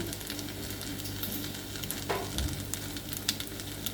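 Minced pork and spaghetti stir-fry in a pan, a steady close sizzle with soft scraping and stirring of the utensil against the pan, and a brief clack partway through.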